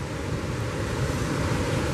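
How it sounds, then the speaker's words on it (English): Ocean surf rolls steadily onto a St Lucia beach, a continuous broad wash of breaking waves with some wind noise on the microphone and no voices. "The water is coming in."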